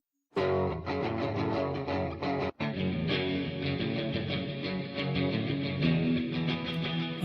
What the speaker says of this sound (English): Let's choose distortion.